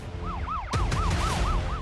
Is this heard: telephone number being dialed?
no